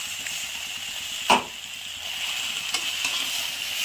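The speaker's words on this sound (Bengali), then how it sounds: "বেশি ভাজবো না, অল্পই ভাজবো।" Ginger, poppy seed and white sesame paste frying briefly in a pan for a Bengali shukto, giving a steady soft sizzle with one sharper crackling burst near the start and a small tap later.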